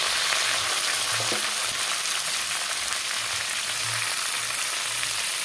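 Potato and drumsticks frying with salt in a pan give a loud, even sizzle throughout, with a few soft stirring knocks and no speech.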